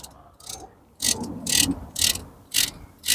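Ratchet on a long extension loosening a bolt on an Audi TT Mk1 1.8T, five or six close rasping clicking bursts in an uneven rhythm with quiet gaps between.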